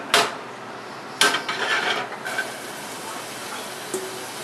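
Chopped onions tumble into a skillet of olive oil over a medium fire, landing in a sharp rattling burst that settles into a brief wash of sizzle, close up with small clinks afterward.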